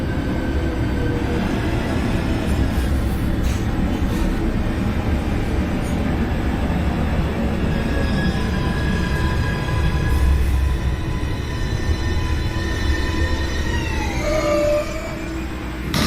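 An NYC Subway R142A train in the OpenBVE simulator game, running on the 4 line with a steady rumbling roll and rising and falling motor whine near the end, no talk.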